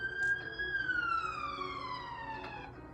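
A wailing emergency siren sweeps down slowly in pitch with rich harmonics, heard fairly clearly over faint background noise, as an ambulance carries a man named Thomas to the hospital.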